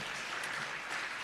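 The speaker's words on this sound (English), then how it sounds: "can we just give another round of applause, please, for those who have become ISO certified" Dense applause from an audience at a Jamaican ministry rebranding and quality recognition ceremony, a steady burst of many hands clapping throughout a short stretch.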